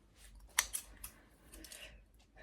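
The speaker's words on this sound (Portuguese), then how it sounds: "E eu corto com a tesoura." Scissors snip the ends of braids in a few sharp, close cuts, followed by quieter rustling.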